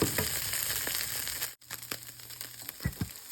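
Blended chicken fries in a little oil with spices, giving a soft, steady sizzle dotted with small crackles and pops, broken by a short pause midway.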